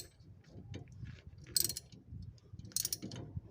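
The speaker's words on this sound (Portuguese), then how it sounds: "Tô usando uma chave de catraca aqui" Ratchet wrench with a 13 mm socket loosening a stabilizer bar part on a Chevrolet Classic car: faint, quick clicking bursts of the pawl between quieter handling noises, close by.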